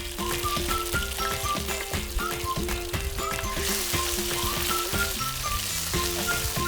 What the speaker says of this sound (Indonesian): Lanjut kita tumis bumbu sampai harum.